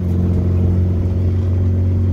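A crashed Honda Civic Ferio, recently rolled onto its roof and now pulling off-line, drives with a steady close engine drone and low road rumble throughout, no voices.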